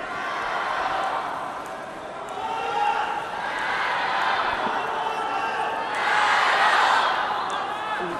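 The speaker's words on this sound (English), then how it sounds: "the crowd trying to urge their team on" Curling arena crowd at a Canada versus China men's world championship match, a sustained broad roar of cheering that swells and fades in waves and stays loud throughout, with speech mixed in.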